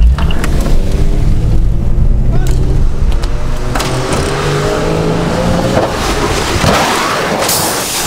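A stunt car crashes and rolls over, a loud, sustained rumbling roar with scattered impacts and scraping, then a rough, noisy surge near the end.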